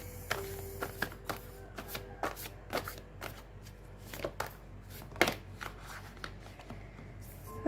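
Tarot cards are shuffled in a quiet room, giving a run of soft, close riffling bursts and crisp snaps at an irregular rhythm with no talking.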